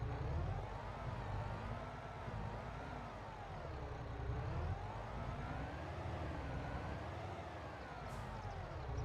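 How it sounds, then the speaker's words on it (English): A truck in Farming Simulator 25 gives off a smooth electric-sounding whine that steadily rises and falls in pitch, like an electric forklift, heard alone at a low level. "Does this truck not sound like it's electric to y'all?"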